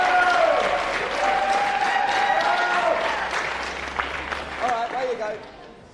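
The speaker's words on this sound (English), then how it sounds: "let's give them a big round of applause" Crowd at a secondary school top rope climbing competition gives a sustained round of applause, steady dense clapping with a voice speaking over it and scattered louder claps toward the end.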